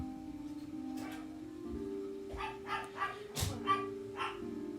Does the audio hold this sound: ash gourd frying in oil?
no